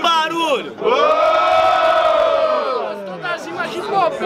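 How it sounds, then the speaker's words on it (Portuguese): Crowd at a student rap battle in Guarulhos, São Paulo, roaring and cheering loudly in a sustained burst of shouting voices, dipping briefly and then swelling again. "Quem gostou das rimas do Breno faz muito barulho!"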